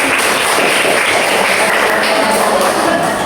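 A classroom of students claps together in a sustained burst of applause, dense and fairly loud throughout, with no clear gaps.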